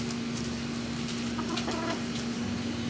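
Backyard chickens beside a garden bed cluck faintly and intermittently in a few short bursts, set against a steady low hum and soft outdoor background.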